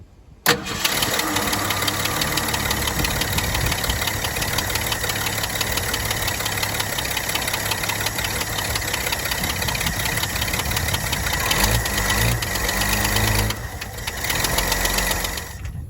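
A car engine being revived after a spark check cranks, catches and then runs loudly at a rough, knocking idle, close up and with no talking.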